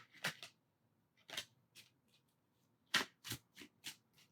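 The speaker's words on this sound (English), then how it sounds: "Okay, I'm gonna shuffle one more time." Tarot cards being shuffled up close, short crisp riffling bursts separated by quiet pauses, a few quick flicks in a row near the end.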